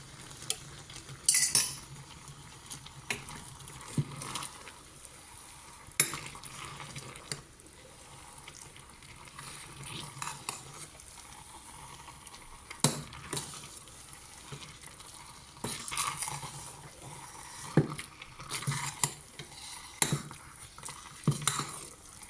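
Ground pepper is stirred into hot oil in a pan while making a quick vegetarian lunch, a quiet sizzle under scattered scrapes and clinks of a spoon against the pan, with no talking.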